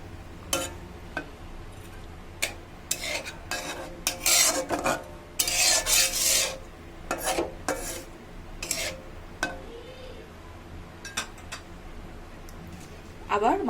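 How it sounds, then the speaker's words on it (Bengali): Mustard hilsa fish being stirred in a pan, with a series of short scraping and rubbing strokes of a utensil against the pan, some louder clusters, over a faint steady background hum. "আমি মাছটাকে হালকা করে নেড়ে দেব।"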